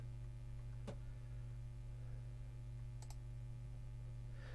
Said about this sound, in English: I'm clicking quite often.